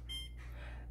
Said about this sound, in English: And we'll just set our timer.